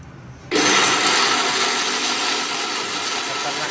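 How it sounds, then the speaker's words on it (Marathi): A mixer grinder grinding spices into a paste starts abruptly and runs loud and close, a steady high whirring roar with a grinding rattle underneath. "आवाज आमच्या मिक्सरचा"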